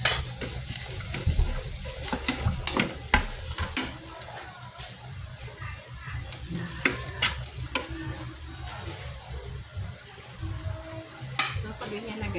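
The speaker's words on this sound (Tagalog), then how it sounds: "Sasatay lang tayo dun ng ating bawang at sibuyas." Garlic and onion sizzle in hot oil in a pan while being stirred, a continuous frying hiss punctuated by sharp scraping clicks of the utensil, close and fairly loud throughout.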